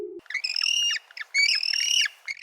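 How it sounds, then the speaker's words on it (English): Cartoonish owl calls, a series of bright, warbling hoots in two close bursts after a brief low tone, clear and alone. "O. Owl."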